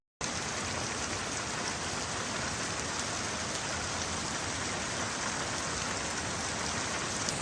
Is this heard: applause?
no